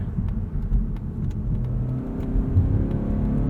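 A 2019 Mazda3 AWD sedan's engine hums low and steady, its pitch rising and shifting as it downshifts, with a constant road rumble underneath.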